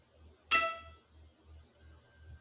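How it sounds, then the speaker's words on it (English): A bright metallic ding rings out once as the collection sound in a Scratch catch-the-falling-fruit game and decays quickly. A second ding starts faintly at the very end, over a quiet, soft pulsing background. "if it is, it's going to hide and make a collection sound"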